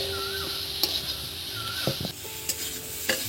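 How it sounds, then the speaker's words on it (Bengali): Chalta (elephant apple) pickle being stirred in a pan with salt, a steady scraping and soft sizzle punctuated by a few sharper clicks of the spoon against the pan, close and alone without talk. "এটাকে কিছুক্ষণ একটু নেড়ে চেড়ে নিতে হবে বন্ধুরা, যাতে এর মধ্যে রস না থাকে"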